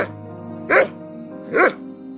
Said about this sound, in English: Now we will hear the sound of a dog.